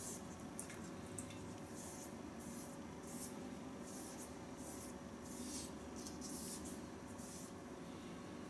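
Sandpaper rubbing on a razor being made, a faint, steady rasping in repeated short strokes, roughly one or two per second, over a constant low background hum.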